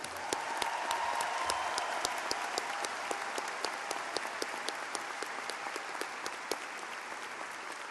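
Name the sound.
audience applause for law school graduates at diploma ceremony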